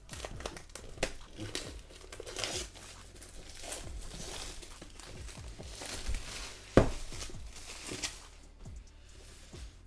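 Crinkly plastic and cardboard rustling as the packaging of an XGIMI MoGo 2 projector is handled and pulled apart, with scattered crunches and a few sharper snaps, close by.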